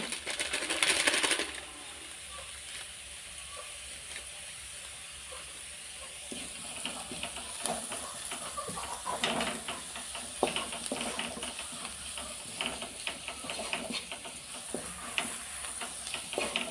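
Fried rice with a little garam masala frying in a pan, a steady crackling sizzle broken by a cluster of brisk stirring scrapes and taps.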